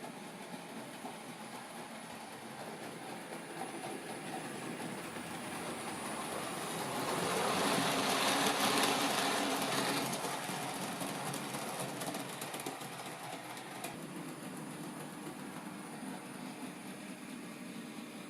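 Accurascale J67/8/9 Buckjumper model locomotive running on a layout, a faint continuous motor hum with light rail rumble that swells as it passes nearby around the middle, then fades back.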